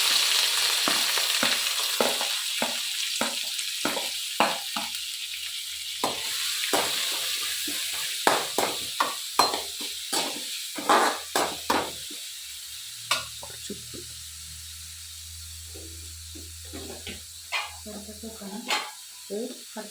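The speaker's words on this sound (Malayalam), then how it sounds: "സവാളയും ഇഞ്ചിയും വെളുത്തുള്ളിയും പച്ചമുളകും ഒക്കെ ഇടുവാണ്" Onion, ginger, garlic and green chili frying in hot oil, with a steady close sizzle and repeated scraping stirs throughout, and a low hum joining in toward the end.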